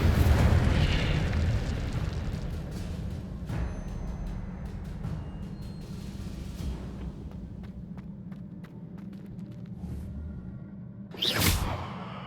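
A fire spell from the Hogwarts Legacy video game erupts in a loud burst that decays into a crackling rumble, with a second whooshing flare near the end.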